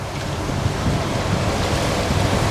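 Water splashes into a pan already holding tomato and chili sauce, rinsing the leftover sauce in while cooking mercon beef meatballs; a steady, dense rushing wash runs throughout the short stretch with no talking.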